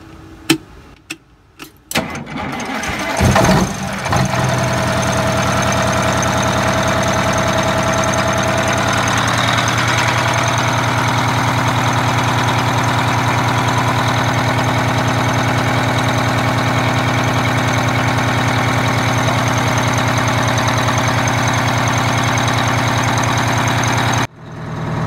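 1988 Bluebird Wanderlodge bus engine cranking, catching and settling into a steady, loud diesel idle with a deep rumbling knock, running alone close by until it shuts off near the end.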